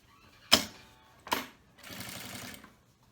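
A domestic sewing machine stitches a men's toiletry bag in short runs: two brief bursts, then a longer steady whir, fairly quiet and close with no talking.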